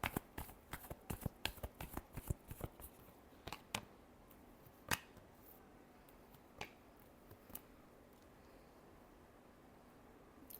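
Tarot cards are shuffled by hand, giving quick crisp riffling flicks and slaps in irregular bursts, close but quiet, thinning to occasional single taps toward the end, with no voices.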